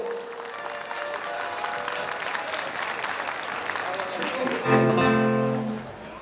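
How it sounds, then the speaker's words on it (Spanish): Audience applause for a male singing duo at a music performance, steady clapping throughout that swells near the end as a sustained tone enters. "Los aplausos también para este dúo."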